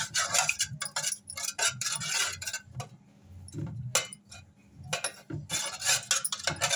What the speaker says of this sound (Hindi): दही इसमें अच्छी तरह से फेंट लेंगे